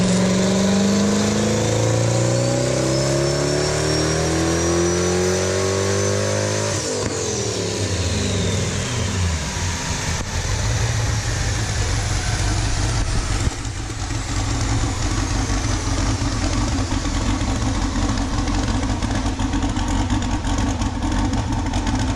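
Car engine on a dyno during a final tuning pass, revving up hard through a long climbing sweep, then holding a loud sustained roar at high revs, close and continuous with no talk.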